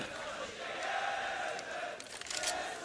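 Fans roar and cheer throughout at a CS:GO esports match between Keyd Stars and Virtus Pro at ESL One Katowice 2015, a dense, steady crowd wash that swells a little midway, with scattered claps and shouts.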